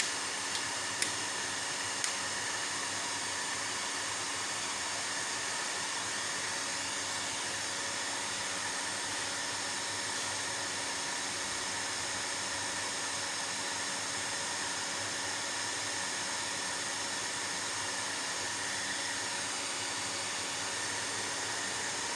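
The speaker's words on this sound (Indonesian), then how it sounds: "di sini kipas atau fan sudah berfungsi dengan normal ya, atau berputar dengan normal ya, karena ada peningkatan suhu dari inverternya" Cooling fan of a 2000W 48V low-frequency inverter running under load, a steady, even whirring hiss with a constant hum, unbroken throughout.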